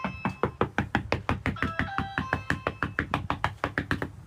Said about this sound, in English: this girl is banging on his goddamn door